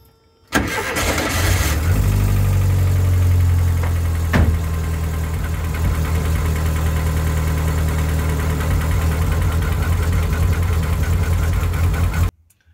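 A Volkswagen Kombi with a misfiring engine cranks briefly, catches and starts, then settles into a loud, steady, slightly uneven idle that runs on for about ten seconds before cutting off, with no talk.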